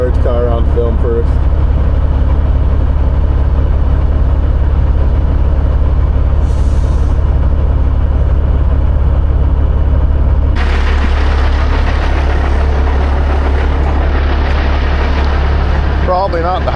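Large vehicle engine idling with a heavy, steady low rumble, loud and close, occasionally layered with hiss and other road noise, with people talking over it.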